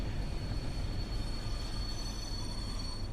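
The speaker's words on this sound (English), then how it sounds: "that is what we call using the full braking ability of the train to maximise efficiency" A train on the Tees Valley Line in Train Sim World brakes hard, giving a steady loud rumble of wheels on rail with a thin high metallic squeal sustained throughout.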